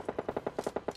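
Rapid automatic gunfire in PUBG Lite, a steady burst of about ten evenly spaced shots, fairly faint and distant-sounding, with no talk over it.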